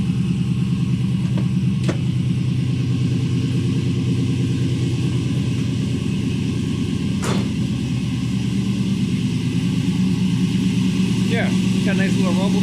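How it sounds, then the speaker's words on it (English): A Chevrolet Monte Carlo SS with a freshly installed LS engine idles steadily with a low, even rumble that stays close and loud throughout, with a couple of faint clicks and a voice briefly heard near the end. "got a nice little rumble to it"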